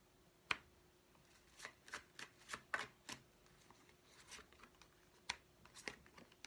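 Tarot cards being shuffled and drawn: a close series of crisp, papery flicks and snaps, some sharp and isolated, others in quick clusters, alone in a quiet room.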